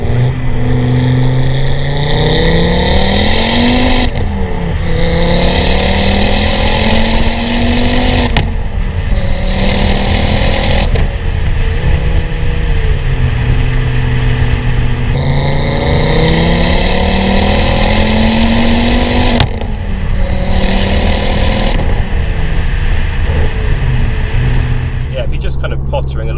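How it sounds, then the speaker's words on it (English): Ford Focus RS MK2 with a new exhaust, recorded close to the tailpipe, giving a loud, steady engine note that rises and falls through several rev sweeps across the whole stretch, with no talking. "I've taken a few shots out by the exhaust, so I'll stick them on there as well so you can hear it."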